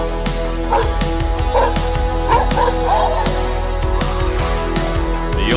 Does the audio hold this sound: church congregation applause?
no